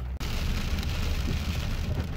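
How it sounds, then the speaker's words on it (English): Hail pelting down during a summer storm on the road in Michigan's Upper Peninsula, a dense, steady hiss of ice striking surfaces with no pauses, loud and close after a brief dropout at the start. "it's hailing on us"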